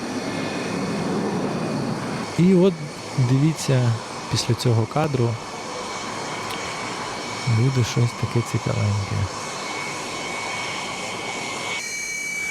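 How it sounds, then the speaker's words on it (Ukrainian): A jet airplane's engines roar steadily as the aircraft rolls past and takes off, a loud continuous rumble and whine, while someone talks over it in bursts. "зараз цей літак проїде, вилетить"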